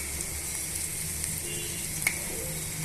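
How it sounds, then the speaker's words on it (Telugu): Sliced onions fry with turmeric in a pan, giving a steady, soft, continuous sizzle close by with no talking. "పసుపు యాడ్ చేసుకోవడం వల్ల ఉల్లిపాయ ముక్కలు త్వరగా మగ్గి త్వరగా వేగిపోతాయండి"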